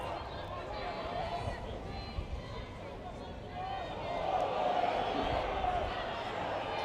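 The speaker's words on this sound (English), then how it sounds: "Crowd yelling for forward passes at every opportunity." Rugby league crowd yelling under the floodlights at Boundary Park during Oldham versus Barrow Raiders: a continuous roar of distant voices that swells louder toward the end.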